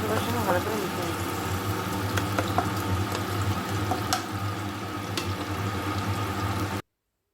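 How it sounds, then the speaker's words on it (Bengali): Tomato and onion paste with spices fry in a pan, a dense, loud bubbling sizzle held steady for several seconds with faint utensil scrapes, cutting off abruptly at the end. "টমেটো দিয়ে ভালো করে ভেজে নিচ্ছি"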